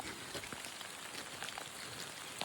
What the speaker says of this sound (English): It's a very, very rainy day.